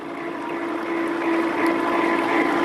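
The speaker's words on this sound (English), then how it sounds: "I can slow the water flow down" Water runs steadily through a GW25 spiral concentrator separating black sand, a continuous rushing, splashing wash with a faint pump-like hum beneath, even in level throughout and with no voices.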